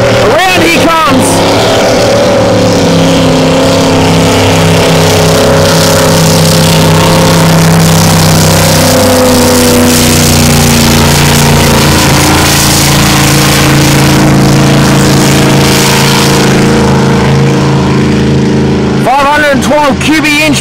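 A racing powerboat at a club race day roars past with a loud, sustained engine howl that shifts in pitch as it passes, while a race commentator talks over it.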